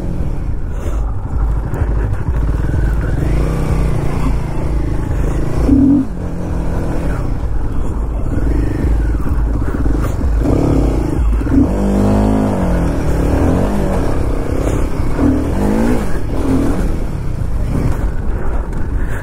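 Royal Enfield Himalayan 450 motorcycle being ridden on a loose surface with its tires slipping, the engine revving and surging loudly up and down close to the microphone, no speech.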